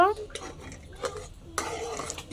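A spoon scrapes and clatters around a cooking pot as a cornflour mixture with cardamom and lemon peel is stirred, giving irregular metallic knocks and scraping close by, with a voice speaking over it.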